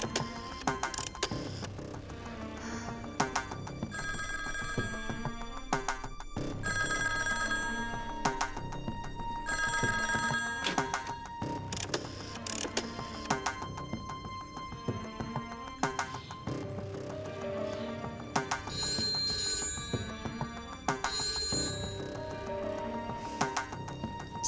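A telephone rings repeatedly in a Chinese anti-Japanese war drama, a bright electric bell sounding in regular bursts over dense, loud dramatic music.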